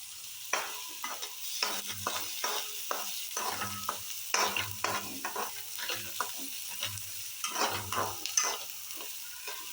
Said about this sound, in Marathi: एक मोठा चिरलेला कांदा मी ऑलरेडी इथं फ्राय करायला ठेवला कारण कांदा फ्राय करायला थोडासा वेळ लागतो आणि त्याच्यामध्ये एक तेजपत्ता घातलेला आहे